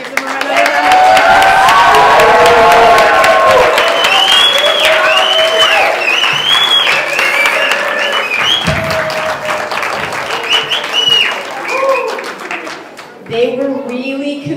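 Loud audience applause and cheering, with whoops and shouting voices over continuous clapping that dips near the end before rising again.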